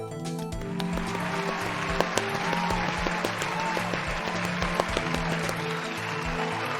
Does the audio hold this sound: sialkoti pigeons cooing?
no